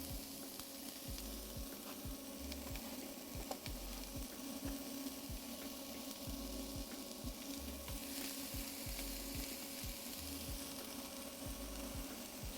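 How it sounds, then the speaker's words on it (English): Chopped onion and garlic sizzle steadily while sautéing in a hot pan, a continuous close crackling hiss with faint rhythmic stirring taps and no talk. "Good sizzle sounds."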